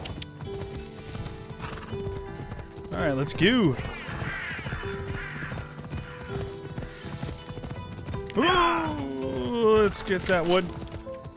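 A horse in the Assassin's Creed Odyssey video game clip-clops along with steady hoofbeats, letting out two loud, drawn-out whinnies midway and near the end, while someone talks over it.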